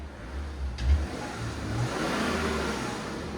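BMW X5 3.5L diesel with straight pipes revving, a low muffled engine rumble that swells briefly and holds steady, fairly quiet and heard from nearby.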